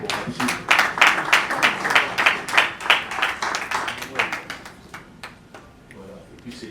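A concert crowd claps for a performer, with rhythmic, fairly loud clapping that swells and then thins out toward the end, and no talk over it.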